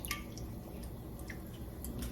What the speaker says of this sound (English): I have water here, and then I'm going to add coconut cream